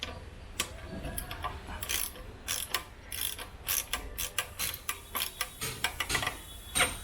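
Stanley tool kit ratchet clicking repeatedly in short, uneven bursts while loosening a nut on a touring windshield of a Hero XPulse 200 motorcycle, close and fairly crisp with no voices.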